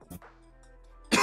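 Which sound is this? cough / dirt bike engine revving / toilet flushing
cough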